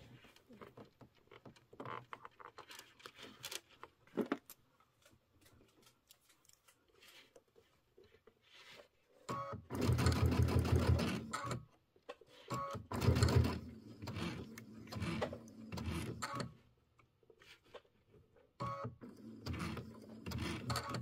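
A sewing machine stitches a mini quilt in short bursts, with a loud sustained run in the middle and quieter intermittent stitching and handling noises on either side, close by.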